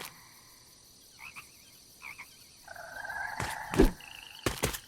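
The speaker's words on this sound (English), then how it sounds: "we begin to hear alien frog sounds" Strange warbling alien frog croaks from a video game creek area sound at intervals over a quiet high hum, with a few sharp clicking bursts near the end.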